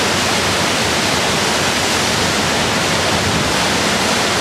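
A waterfall about 60 feet high in Kings Canyon roars as a loud, dense, unbroken rush of falling water, steady and close throughout with no other sounds breaking through.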